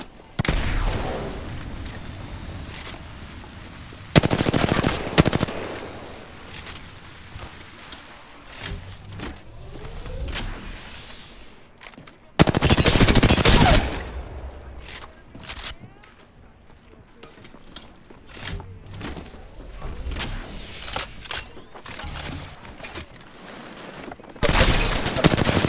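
Gunfire in Apex Legends, several loud bursts of rapid shots and booms spread across a longer stretch, with quieter game noise in between and a player speaking occasionally.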